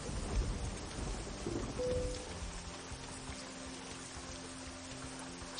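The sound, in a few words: rain in American Truck Simulator video game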